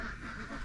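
Ducks quack briefly in a primitive mountain village in the southern Philippines, a short nasal call over a steady outdoor background.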